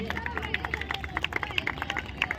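An audience claps and murmurs after a correct quiz answer at an outdoor Shivaji Maharaj Jayanti gathering at Bhakti Shakti Chowk, with scattered sharp claps over a steady crowd hubbub.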